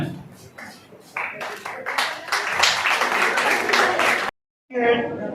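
An audience applauding at a certificate ceremony, starting with sparse individual claps that build into dense, loud clapping, then cutting off abruptly before a brief return of sound.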